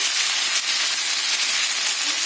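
Tomatoes cooking in hot oil seasoned with ginger, a dried red chilli and bay leaf, giving a steady, loud broadband sizzle and hiss that runs unbroken throughout with no talking.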